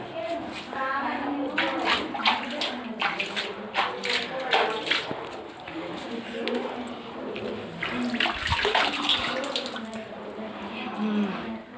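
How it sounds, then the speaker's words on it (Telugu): Spring water flows out steadily into a shallow temple pond at Ravvalakonda, a continuous nearby splashing and trickling heard beneath people talking throughout. "కానీ నీళ్లు ఎప్పుడు వస్తూనే ఉంటాయి"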